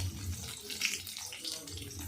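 Water drips and trickles as chopped bitter gourd is squeezed by hand in a kitchen, a faint, soft patter of liquid over a couple of seconds.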